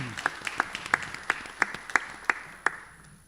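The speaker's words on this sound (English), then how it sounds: "let's give a great round of applause" A single person claps about eight or nine crisp, evenly spaced claps at a Los Angeles mayoral candidate forum, close and distinct against a quiet room with faint background murmur.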